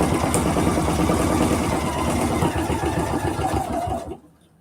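A sewing machine stitches a quilted fall market bag, its rapid, steady mechanical chatter running close and loud before stopping abruptly near the end.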